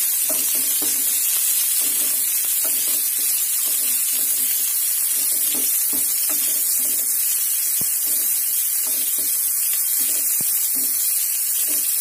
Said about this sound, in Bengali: পেঁয়াজ আর লঙ্কা আমি সম্পূর্ণটা দিয়ে দিলাম দিয়ে এবার এটাকে আমি একটুখানি ভাজা ভাজা করে দেবো